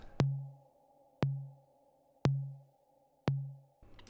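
Tom and snare drum loop played dry, with no clipping applied: four evenly spaced hits about a second apart, each a sharp attack with a low, ringing tail that decays, over a faint steady hum.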